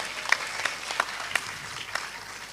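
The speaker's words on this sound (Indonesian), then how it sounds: "Oke, tepuk tangan buat kita semua." An audience at an Islamic school graduation ceremony gives faint, scattered applause, with only a few sharper claps standing out over a quiet room.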